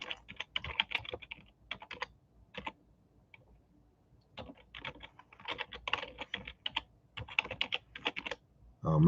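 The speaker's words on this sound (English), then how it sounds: "I did all that typing for nothing, man." Someone types on a computer keyboard in quick bursts of close, crisp key clicks, separated by short pauses.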